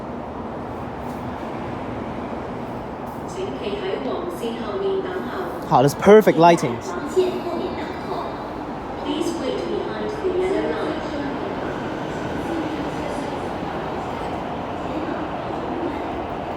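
A C train pulls into Tai Shui Hang metro station, a steady rumble of rail and carriage noise running throughout with a brief louder clatter midway, while a voice talks over it.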